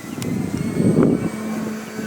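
An ESM F7F Tigercat RC model airplane makes a gear-down pass, its engine drone swelling as it passes close overhead around the one-second mark and then easing off, steady and continuous throughout.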